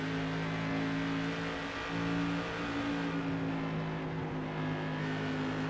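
SK Modified race cars running a sim racing event at Five Flags, a steady engine drone held at constant pitch as the pack circles, with no voices over it.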